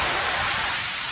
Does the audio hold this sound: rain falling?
yes